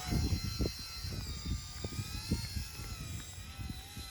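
An RCERA C127AI brushless RC helicopter flies close by with a steady high rotor and motor whine, a sustained electric hum under faint low thumps.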